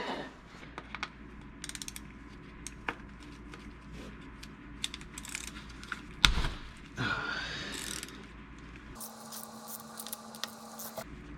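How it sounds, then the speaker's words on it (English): A ratchet works loose the oil drain plug on a Porsche Carrera 911 (997) oil pan, a run of faint, quick mechanical clicks with one louder metallic clatter midway, close by and without talk. "first step is to remove the drain plug"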